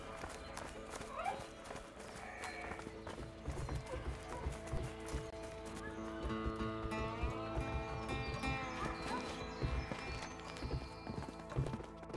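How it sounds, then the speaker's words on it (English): Rapid hoofbeats clatter steadily as several horses gallop in A Way Out, with a whinny and busy background music mixed in throughout. "let's just hope these horses keep running."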